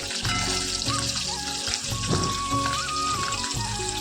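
Fish sizzle in hot oil in a pan, a dense, constant crackle and spatter heard up close and fairly loud, with soft kitchen knocks now and then.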